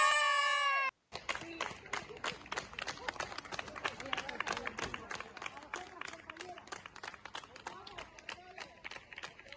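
Applause for healthcare workers during the COVID-19 pandemic rings out as a long run of crisp, scattered claps. A short tone opens it before the clapping starts. The clapping is dense and steady throughout, with cheering voices mixed in.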